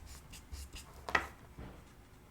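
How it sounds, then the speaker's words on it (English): A colored pencil rubs across card stock in short soft strokes with small gaps, close and quiet, with no talking. "I'm just touching the color pencil, and man, it just flows so pretty."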